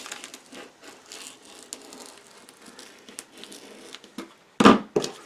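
Scissors cut through paper pattern pieces for a paper-pieced log cabin quilt block, giving soft crinkling snips up close that end in a couple of louder, crisp crunches.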